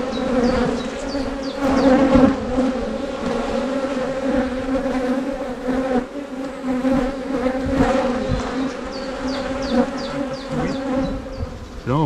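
An agitated honeybee colony during an artificial swarm split buzzes loudly and continuously up close, a dense droning hum with individual bees whining past.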